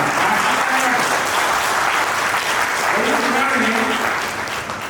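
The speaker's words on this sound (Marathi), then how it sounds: "त्याच्यासाठी एकदा जोरदार टाळ्या." A hall audience at a Samata Parishad awareness camp in Nashik claps in a loud, continuous wash. Some voices are mixed in, and the applause thins and fades toward the end.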